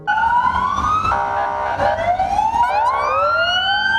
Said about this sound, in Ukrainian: Карета швидкої медичної допомоги у супроводі поліції з увімкненими проблисковими маячками та сиреною проїхалася містом